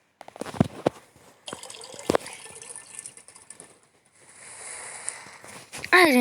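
Water is collected in the Raft survival game, with short splashy drips and trickling bursts, a longer pouring stretch near the end, and a voice speaking briefly between them.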